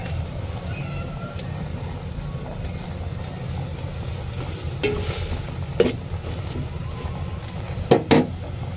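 Shrimp cooking in a pan with kamias for sinigang over a steady low simmering bubble, with a few brief clatters of utensil and pan standing out near the end.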